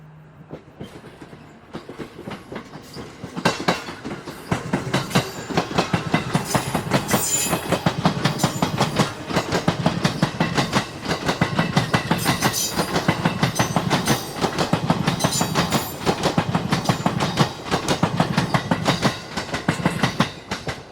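The Azusa No. 5 limited express train on the Oito Line runs steadily along the rails with continuous rumbling and rhythmic clickety-clack of wheels, fairly close and loud, with no voices.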